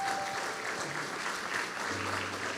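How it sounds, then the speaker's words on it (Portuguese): A church congregation claps steadily and loudly at a worship service, forming a continuous wash of applause heard from within the room. "você vai aplaudir forte o nome de Jesus"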